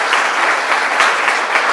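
Audience applause at an SMU Dedman event, a loud, dense, even wash of clapping from a large crowd, sustained without pause.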